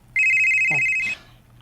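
A cellphone rings with a single steady electronic tone lasting about a second, loud and close, overlapping a brief snippet of other sound before cutting off into quiet.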